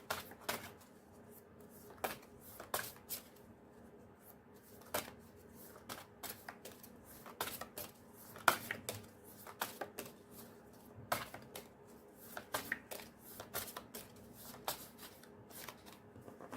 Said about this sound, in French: C'est pas évident quand il n'y a pas beaucoup de cartes pour les mélanger.